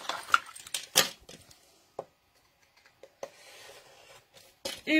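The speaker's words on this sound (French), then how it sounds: "Moi qui n'aime pas découper avec les ciseaux" Scissors cutting through craft foam while making a chocolate explosion box, heard as short dry snipping and rubbing bursts at close range, separated by quiet pauses.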